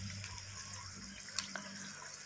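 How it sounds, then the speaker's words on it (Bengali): Water is poured into a cooking pot as a soft, continuous splashing trickle lasting a couple of seconds, fairly quiet and close, with a faint clink partway through. "ঠিক এরকম জলটা আমি দেব।"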